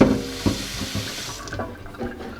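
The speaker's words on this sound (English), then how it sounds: "Pour it in here, open up the water, fill it on up" Tap water runs and splashes into the empty metal boiling chamber of a Mini Classic CT water distiller, a close, loud gushing stream with small clunks and sloshes as the chamber fills.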